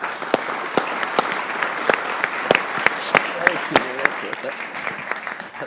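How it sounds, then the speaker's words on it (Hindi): A crowd claps in scattered, uneven bursts for several seconds, sharp individual claps standing out, with a voice speaking briefly underneath. "आई फील यार अहमद भाई के लिए तालियां यार"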